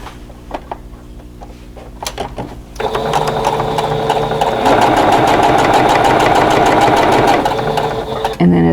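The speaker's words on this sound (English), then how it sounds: "I want to stitch just to the inside of that point" A sewing machine stitches a quilt block for an Album Block, starting after a few soft clicks and handling sounds, then running steadily and loudly in a fast continuous whir for several seconds before stopping.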